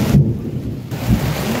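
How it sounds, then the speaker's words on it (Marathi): Heavy monsoon rain pours down in coastal Konkan while deep thunder rumbles loud and close, the downpour hissing steadily throughout with no voices. "मजबूत पाऊस पडतोय"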